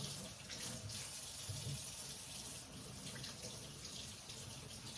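Steady tap water splashes at a kitchen sink as celery is rinsed under it for bone broth, a continuous close, even rush with no pauses.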